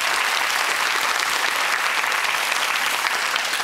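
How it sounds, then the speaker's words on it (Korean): The studio audience of the 2003 KBS quiz show Quiz Korea (퀴즈 대한민국) breaks into applause for a contestant, a loud, even burst of many hands clapping together. "박수 한번 부탁드리겠습니다"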